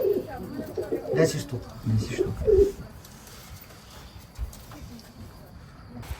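Pigeons coo softly nearby on an ostrich farm in the Carpathian village of Dzembronia, a few low burbling calls in the first seconds while a voice speaks briefly, then a quieter stretch.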